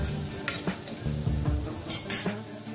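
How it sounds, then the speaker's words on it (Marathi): Finely chopped capsicum is stirred into a sizzling pav bhaji pan with a spatula, soft scraping strokes and occasional sharp metallic knocks over a steady frying hiss. "तर ते टाकल्यानंतर आपण परत एकदा चांगलं मिक्स करून घेऊ।"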